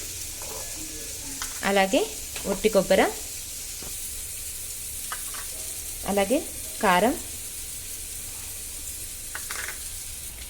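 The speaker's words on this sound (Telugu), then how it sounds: "ఆయిల్ హీట్ అయ్యాక ఇందులోకి సన్నగా కట్ చేసుకున్న ఆనియన్స్ వేసేసుకుంటున్నాను" Thinly sliced onions fry in hot oil in a kadai, giving a steady, moderately loud sizzle. Someone talks over it in short bursts.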